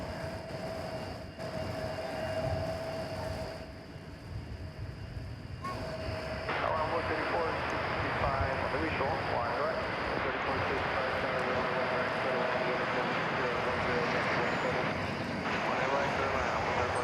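A jet airplane taxis past Terminal B at DFW Airport, a steady, broad engine rumble and whine that grows louder and holds as it rolls by, with an outdoor airport hum underneath.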